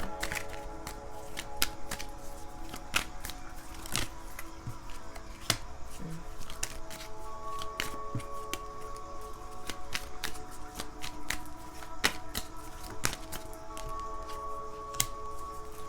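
Tarot cards shuffled by hand indoors: quiet, close riffling and flicking with sharp ticks scattered irregularly over a steady faint hum.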